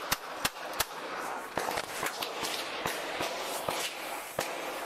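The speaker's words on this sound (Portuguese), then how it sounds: "Você vê os tiros que foram dados por ela, pela câmera, dá pra ouvir" A burst of roughly a dozen sharp gunshots captured on a police body camera, irregularly spaced cracks over a steady noisy background, some louder and nearer, others softer and more distant.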